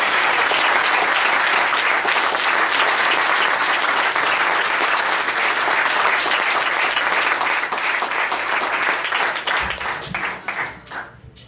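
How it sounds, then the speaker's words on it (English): A large crowd claps warmly at a state representative campaign kickoff in honor of Dave Winters, with dense, steady applause for about ten seconds that thins out and fades near the end. "Please join me in a round of applause in honoring Dave"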